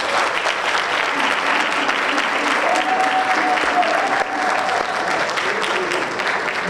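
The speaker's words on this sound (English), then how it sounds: "So can you give this group of candidates" Sustained audience applause for a group of candidates at an NAACP candidate forum in a college hall, a steady dense wash of clapping lasting throughout with no pauses.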